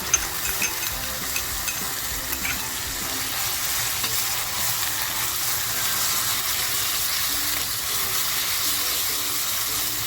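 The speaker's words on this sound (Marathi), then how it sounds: "जो कांदा घेतला आहे ना किसून तो कांदा टाकते याच्यामध्ये" Grated onion fries in hot oil with kharda masala, giving a steady close sizzle with stirring scrapes and a few sharp knocks near the start.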